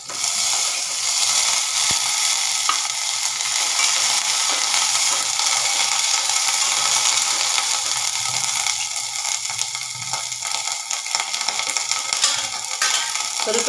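Green chilies and garlic fry in oil in a pan, a continuous bright sizzle held close and steady, with faint stirring scrapes and no talk.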